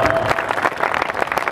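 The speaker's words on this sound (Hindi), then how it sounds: "तालियां हों" A crowd at a comedy poetry event gives a short burst of loud applause for the police, dense and continuous clapping close by, with no talk over it.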